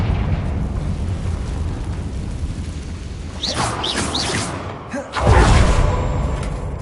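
Confringo blasting spell in Hogwarts Legacy, set in 1912, bursting into a loud close explosion with a heavy low thud after a few whooshing spell effects.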